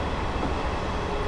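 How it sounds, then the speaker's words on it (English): A train accelerating slowly on the Woodhead Line in Train Simulator 2013 gives off a steady, continuous low rumble and drone, heard alone at moderate level with no talk. "This train's extremely slow accelerating."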